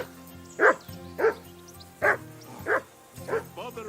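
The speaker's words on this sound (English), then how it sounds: "Jesus, Henry, that barking's driving me nuts" Dog in the video game Kingdom Come Deliverance 2 barking repeatedly, five sharp yips at a steady rhythm over a low background hum, fairly close and prominent.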